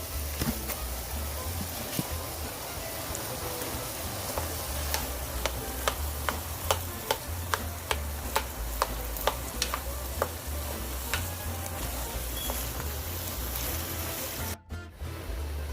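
Ground beef sizzles in a pan while a utensil scrapes and taps against it in a regular ticking rhythm, the frying hiss steady throughout and a brief scrape near the end.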